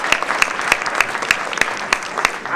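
Members of a commission break into brief applause, a short burst of uneven, close hand claps with a few sharp strikes standing out over the clatter.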